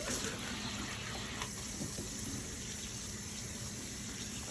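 Cold tap water runs steadily over cooked macaroni pasta in a kitchen sink, a continuous close rinsing gush with no talking.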